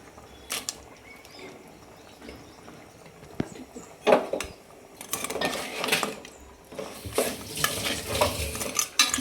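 Utensils scrape and clatter in a pan as crab pieces are stirred into curry gravy, with intermittent sizzling and knocks growing busier toward the end.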